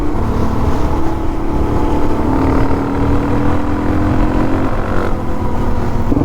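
Suzuki DRZ400 and KTM 390 motorcycle engines drone loudly and steadily at high revs during a race. The pitch shifts slightly throughout, and no one speaks.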